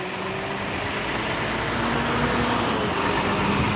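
Big Volvo truck driving past on a roadway, a broad rumbling engine and tyre roar that swells slightly as it nears, heard without talk.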